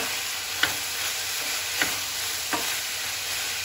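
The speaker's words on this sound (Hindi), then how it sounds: "अच्छे से मिलाते रहेंगे और चलाते रहेंगे।" Vegetables and sausage sizzle steadily in hot garlic sauce in a pan, a constant frying hiss broken by a few soft knocks as a spoon stirs them.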